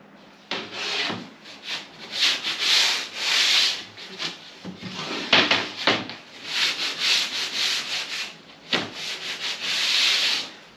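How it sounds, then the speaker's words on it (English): Rhythmic abrasive rubbing of sandpaper on plywood edges, repeated strokes rising and falling in loudness, close up and continuous with no talking. "So I'm just sanding off the edges so that we don't get any splinters off the wood."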